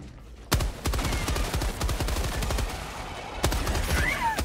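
An automatic turret in the video game Helldivers 2 fires a loud, sustained volley of rapid shots at close range, with a sharp burst starting it off and another heavy burst near the end.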